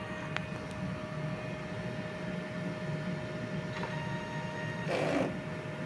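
A DTF printer runs a print head cleaning cycle, with a steady mechanical hum and whir and a brief louder burst of pumping or movement near the end.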